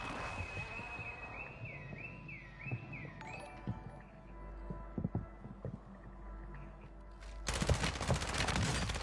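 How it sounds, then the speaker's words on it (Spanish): Bursts of video-game gunfire crackle through a battle-royale match, a few sharp shots early and then a dense, loud fusillade near the end, with no talk over it. "Escuché disparos por aquí."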